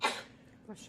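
A man sneezes once, a sharp loud burst at the start that fades quickly, followed by a short faint breath.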